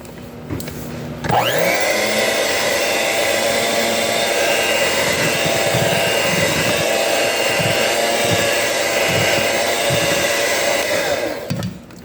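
Electric mixer whipping vanilla extract into buttercream for an opera cake, a steady loud motor whir starting after a short quiet moment and running evenly for about ten seconds before cutting off.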